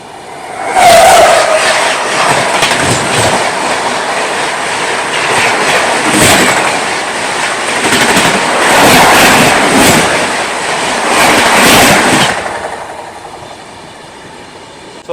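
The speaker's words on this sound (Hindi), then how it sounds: "अभी न्यू दिल्ली से विशाखापट्टनम जाने वाली AP एक्सप्रेस आ रही है सामने से, जिसके साथ क्रॉसिंग होने वाली है" Rajdhani Express rolling at speed as the oncoming AP Express passes alongside, a loud continuous rush of wheels and air with repeated rhythmic clatter bursts from passing coaches, steady for about twelve seconds before easing off.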